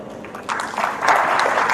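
Audience applause at a college idea lab inauguration ceremony, a steady wash of clapping from a crowd that swells about halfway through and stays fairly loud to the end.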